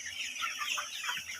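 Chickens on a farm cluck busily and close by while a man feeds them fruit he cuts by hand.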